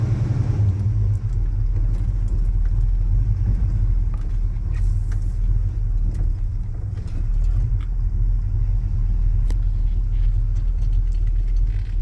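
A Chevy C10 pickup, once a six-cylinder three-speed and now a 350 four-speed, rumbles low and steady close by as it backs up slowly, its engine a continuous idle-like drone without talking.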